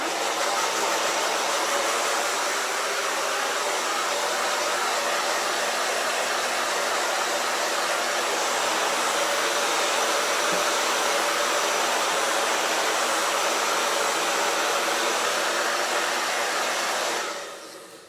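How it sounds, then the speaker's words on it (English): A loud, steady blower roars continuously at close range, like a hair dryer or heat gun, then cuts off near the end. "You can dry this with the heat gun or hair dryer."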